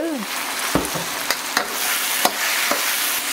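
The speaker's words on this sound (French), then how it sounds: "Mon feu est assez fort, je vais tout de suite rajouter la viande pour pas que mon ail brûle." Beef, garlic and ginger frying in a hot pan give a steady sizzle, with a few sharp knocks of stirring.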